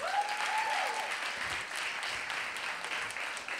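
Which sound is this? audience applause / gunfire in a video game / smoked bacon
audience applause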